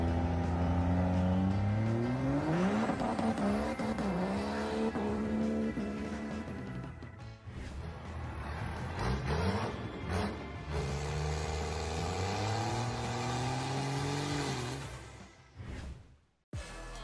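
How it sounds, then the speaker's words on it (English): A Dodge Ram pickup truck accelerating hard, its engine note climbing and surging in repeated rising sweeps, loud and close throughout before cutting off near the end, with no talk. "Dodge Ram is one of the fastest and most powerful pickups in the world."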